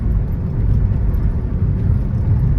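Steady low rumble of a Maruti Ertiga cruising along a highway during a monsoon road trip, continuous engine and road noise from inside the cabin with no talking.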